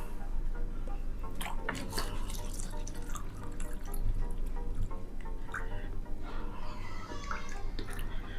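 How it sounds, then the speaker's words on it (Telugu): Water pours steadily into a container for a whisky drink, with a continuous close splashing and trickling that keeps up throughout and has occasional brighter drips and gurgles. "వాటర్ పోస్తున్నాను"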